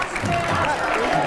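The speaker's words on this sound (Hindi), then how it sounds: "जोरदार तालियां एक बार फिर से कन्हैया जी के लिए।" Brief burst of audience clapping for politician Kanhaiya Kumar, moderately loud and continuous, with a voice speaking over it.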